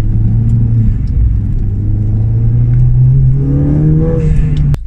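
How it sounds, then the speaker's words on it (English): Ford Fiesta ST driving around a roundabout, a loud steady engine drone with rising revs toward the end and road rumble underneath, heard from inside the car. "You only got to drive around the roundabout and it's lifting the rear wheel."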